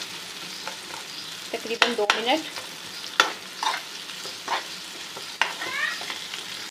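Onions frying in a pan while being stirred, a soft continuous sizzle broken by sharp scraping strokes of a spoon, with a brief spoken word partway through.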